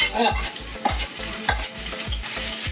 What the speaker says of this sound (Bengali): লাল করে পেঁয়াজটা ভাজা হয়ে গেছে দিয়ে দিলাম টমেটো আদা রসুন বাটা